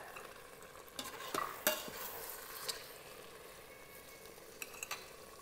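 Mutton being stirred into gravy in an Instant Pot pressure cooker for biryani, with a soft sizzle under scattered scraping clicks of the spoon against the pot.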